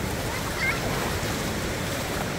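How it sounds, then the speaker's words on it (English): Waves wash in on a beach in Da Nang, Vietnam, a steady broadband rush of surf with wind noise on the microphone and a slight swell partway through. "Here comes some more water."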